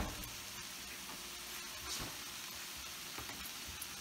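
Seasoned food sizzles and fries steadily in a pan while being stirred, a continuous soft crackling hiss with faint scraping, for keto meal prep in a home kitchen.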